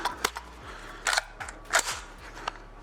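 A BTS-15 carbine in .300 Blackout fires three unsuppressed supersonic shots, each a sharp, close crack spaced under a second apart, with brief echoes in between.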